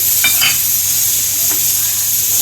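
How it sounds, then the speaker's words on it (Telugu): Peanuts drop into a hot pan and are stirred as they fry, with a loud steady sizzle throughout and a few light scrapes and clinks of a spoon against the pan. "పల్లీలు వేస్తున్నాం చూడండి, చాలు అంతే చాలు."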